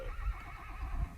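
A four-year-old performance horse prospect named Annie lets out a loud, close whinny, followed by soft snorting and low rumbling with no talk.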